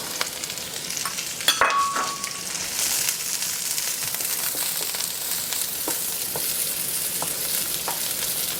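Shallots and carrots fry in hot oil in a wok, giving a steady close sizzle with a few sharp clinks and stirring scrapes early on and no talking.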